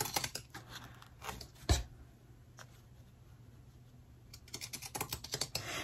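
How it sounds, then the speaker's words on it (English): Scissors snip through thick felt in clusters of sharp close clicks, separated by a quieter pause in the middle. "Now when I use these scissors, I try to line back up where the point is."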